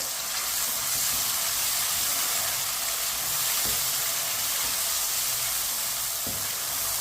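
Finely chopped tomato and green chillies hit a hot pan for masoor dal, giving a steady, even sizzle and hiss that runs unbroken throughout, with no voices over it.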